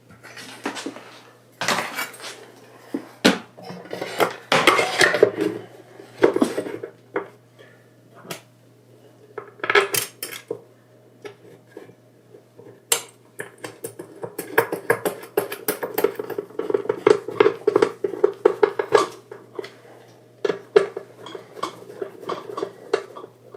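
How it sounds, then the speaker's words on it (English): The metal chassis of a Yamaha GA-10 guitar amplifier is worked back into its cabinet with a long run of close clanks, rattles and knocks, sparse at first, then busier and denser toward the end. "Just got to put the chassis back in now."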